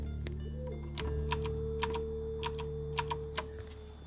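Computer keyboard keys are pressed, including Control and minus, as a scattering of about ten crisp clicks over roughly four seconds, close and distinct above a steady low electrical hum.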